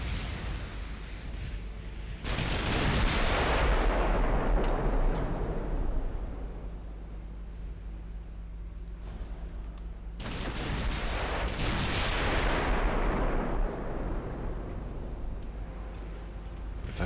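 Cruiser guns firing in the naval video game Ultimate Admiral Dreadnoughts, two long, loud rumbling salvos, each booming in and then rolling away over several seconds, with a steady low background roar between them.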